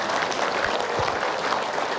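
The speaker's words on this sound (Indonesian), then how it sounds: "tepuk tangan untuk bintang tamu kita" A studio audience claps for a guest star arriving on an Indonesian religious talk show, a dense, even wash of applause filling two seconds with no speech over it.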